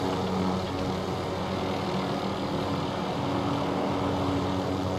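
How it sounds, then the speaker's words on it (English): A helicopter flies overhead in a video game, making a continuous, fairly loud engine and rotor drone that holds steady throughout with no voices. "Is a helicopter."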